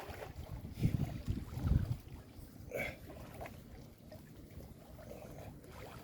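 Wind gusts buffet the microphone at a lake shore in winter, a low rough rumble that is strongest early and then settles into a steady breezy hiss.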